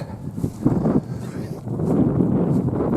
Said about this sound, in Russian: Ну и ветрище сегодня.